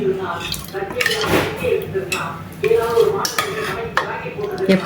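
Clattering of a spoon stirring carrot payasam with sago in a pot, with metallic scrapes and clinks, close and fairly loud, over a steady kitchen background.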